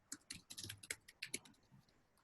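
Quiet, uneven clatter of typing on a computer keyboard, a dozen or so light keystrokes in quick irregular bursts, heard close and alone.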